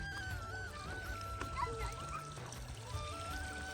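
Irrigation water flows through a muddy village field with a continuous low pouring and trickling sound, faint and steady, with occasional splashes and soft voices in the background.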